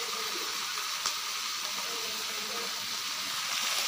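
Peanuts dry-frying without oil on a dosa tawa, giving a soft continuous hiss and faint crackle at moderate level, steady throughout with no talking.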